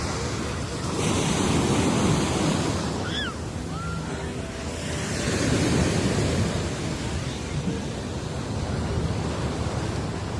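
Pacific Ocean waves breaking and washing up on a beach, a steady broad roar of surf that swells and eases, with wind across the microphone and a brief child's squeal.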